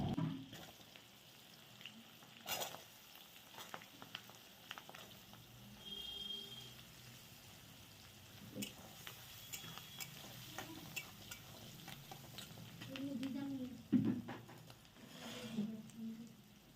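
Garlic, green chili and onion frying in butter and oil, a quiet steady sizzle with occasional stirring scrapes and clinks, some faint background talk.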